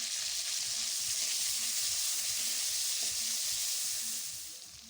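Tomato with ginger and cumin paste fries in a pan, giving a close, steady hiss of sizzling oil with faint stirring scrapes, tapering off at the end.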